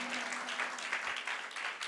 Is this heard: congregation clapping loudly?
yes